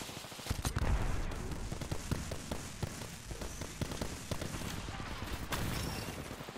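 Charge rifle gunfire in a team shooter game, rapid repeated sharp bursts crackling in an uneven volley for several seconds, loud and close with some game noise between shots.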